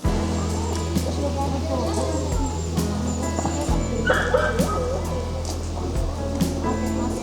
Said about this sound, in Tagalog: May mga aso pala. Dami ah.